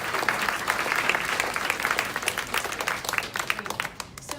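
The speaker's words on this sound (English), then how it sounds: "So a round of applause for our panelists" An audience at a vegan technology panel claps for the panelists, a dense, loud burst of many hands that rolls on steadily and then thins out toward the end, with no one talking over it.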